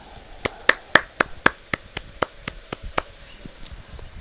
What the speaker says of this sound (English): You know, I'm clapping.